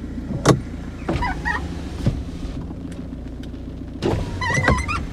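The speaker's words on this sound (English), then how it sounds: "something unlatches there, the windows go down" Electric windows on an Audi A4 convertible with a faulty roof whir down with motor hums and mechanical clicks and thunks, close by, with light chirping sounds in the background.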